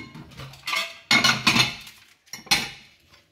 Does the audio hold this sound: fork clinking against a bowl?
yes